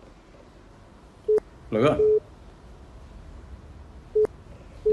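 A telephone gives several short, evenly pitched busy-signal beeps, spaced apart, with a brief burst of speech in between; heard indoors during a call attempt.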